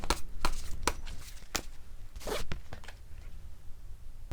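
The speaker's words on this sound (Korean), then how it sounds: "이번 주 가슴에 새기시면 좋을 우주로부터의 메시지 한 장 뽑아볼게요" A tarot card drawn from the deck gives a run of crisp, close papery snaps and rustles, several sharp flicks spread through a quiet room.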